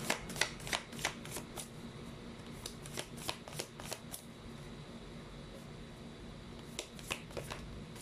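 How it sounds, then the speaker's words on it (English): A deck of cards is shuffled in bursts of crisp riffling and snapping, close and fairly quiet, with repeated flurries separated by short pauses and no talking. "I shuffled the cards"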